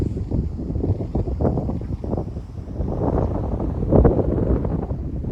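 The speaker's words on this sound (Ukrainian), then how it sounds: "вітриган сьогодні, не буде чути" Strong wind in the Carpathians near the Stryi River buffets the microphone, a continuous low roar that swells and gusts throughout, with no other sounds standing out.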